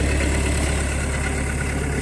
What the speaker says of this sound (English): New engine. Runs good.